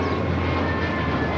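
Cayman Airways Boeing 737 MAX 8 taxiing at LAX, a steady low jet engine rumble and whine that holds even and continuous, fairly loud at a moderate distance, with no talk over it.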